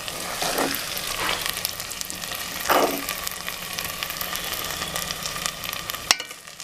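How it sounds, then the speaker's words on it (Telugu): Fish pieces coated in masala paste sizzle steadily in a pan while being turned, with soft scrapes and taps from the spatula over a continuous fry hiss. "ఐదు నిమిషాలు మసాలా పేస్ట్లో మగ్గిన చేప ముక్కల్ని తిప్పుకోవాలి."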